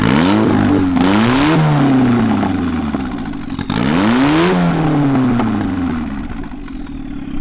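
A turbocharged Mazda Miata convertible pulling hard through the gears, its engine note climbing steeply, dropping at each shift and climbing again, loud and close with a whistling turbo whine above it.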